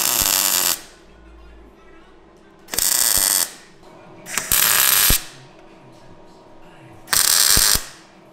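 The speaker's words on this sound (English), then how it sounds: "we're going to just start welding it all" Tack welding a rust repair patch onto a car wheel arch: four separate loud crackling bursts of a second or less each, with quiet gaps of workshop noise between.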